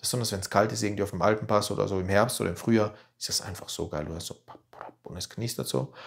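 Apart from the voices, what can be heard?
None of the usual background noises is heard.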